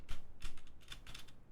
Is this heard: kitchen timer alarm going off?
no